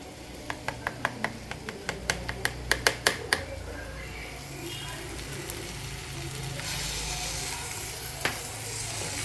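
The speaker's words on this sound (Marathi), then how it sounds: "आलं लसूणची पेस्ट ॲड करायची." Ginger garlic paste hitting softened cooking tomato in a pan: a run of sharp spoon clicks and taps, then a steady close sizzle and frying hiss while prawn masala cooks.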